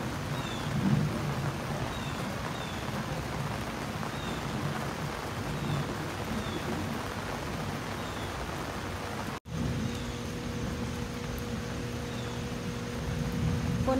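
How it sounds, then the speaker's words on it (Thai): Steady heavy rain pours down in a dense, hissing wash, unbroken throughout, with a brief dropout partway and a faint low hum afterward. "ฝนเริ่มตกแรงแล้วจ้ะ"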